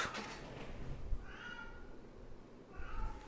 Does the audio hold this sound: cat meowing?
yes